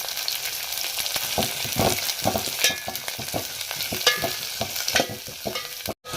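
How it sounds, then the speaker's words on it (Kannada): Oil sizzles and crackles steadily in a pan as mustard seeds and cumin fry for an eggplant curry, with small pops and stirring scrapes throughout and no talking. "ಇವಾಗ ಇಲ್ಲಿ ಎಣ್ಣೆ ಕಾಯ್ಕತ್ತೀನಿ ರೀ ಬದ್ನಿಕಾಯಿ ಪಲ್ಯಕ್ಕೆ ಸ್ವಲ್ಪ ಸಾಸಿವೆ ಜೀರಿಗೆ ಹಾಕ್ಕೊಳ್ಳೋಣ"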